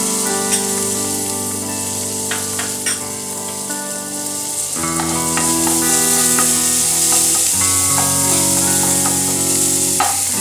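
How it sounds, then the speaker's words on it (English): Butter and garlic sizzle steadily in a hot pan while a utensil stirs, with a loud, continuous frying hiss and scattered clicks of metal against the pan. "Now again add in half a teaspoon of butter, a teaspoon of garlic,"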